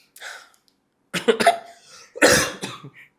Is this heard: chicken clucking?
no